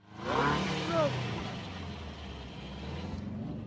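Car engine revving out in the desert, captured from a dashcam: a loud rising rev swell near the start, easing into a steady lower drone, with talk over it.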